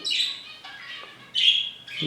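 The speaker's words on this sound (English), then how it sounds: "I don't know what's gotten into these birds." Birds outdoors give sharp, high chirps and squawks in several bursts separated by short pauses, fairly close, with no talk over them.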